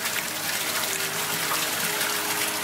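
Rainwater draining through a pump-through barrier hydrocarbon filter into a vessel below, a steady rushing gush of water with a faint pump tone underneath, continuous and fairly close.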